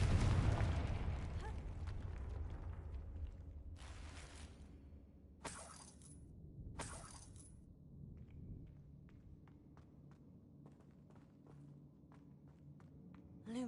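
The Confringo explosive spell is cast in the Hogwarts Legacy video game, giving a few sharp bursts and crackling blasts over a low rumbling background, followed by scattered faint clicks and steps.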